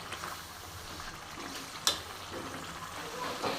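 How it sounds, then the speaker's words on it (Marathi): Masala paste for vegetable biryani frying in oil, a soft steady sizzle with light stirring scrapes and one sharp clink, close and fairly quiet. "ह्यालाही तेल सुटेपर्यंत व्यवस्थित ह्याच्यामध्ये भाजून घ्यायचे."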